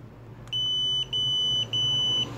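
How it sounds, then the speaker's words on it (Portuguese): A Xiaomi Yi 2K action camera gives three sustained high electronic beeps in a row while taking a photo, each about half a second long, clear and close above a low background hum. "Você viu esse barulhinho, tá tirando foto."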